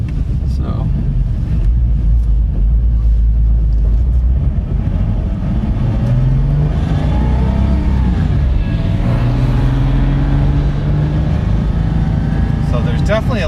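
A Street Touring-Modified 2007 Porsche Cayman pulls away with a steady, loud low engine drone and rising rev tones, a close interior rumble that persists throughout.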